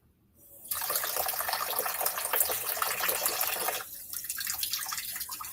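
Kitchen tap turned on and running steadily into a sink, a close, continuous hiss of water that briefly lowers in strength partway through.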